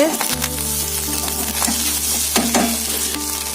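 Rice fries in a pan with a bright, steady sizzle and a few stirring scrapes, close-up over a constant low hum, with no voices.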